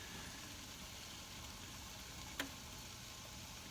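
Vegetarian sausage sizzles quietly in a frying pan as a steady, soft broadband hiss, with one brief click partway through.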